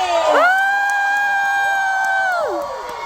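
A crowd cheers at a thank-you screening of the film 夜王, with a long, sustained high whoop riding over steady, loud crowd noise for about three seconds.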